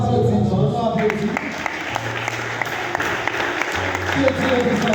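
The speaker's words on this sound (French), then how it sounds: "On nous applaudit, nous." Wedding guests applaud the newly married couple in a church ceremony, steady clapping running throughout beneath a speaking voice and low music.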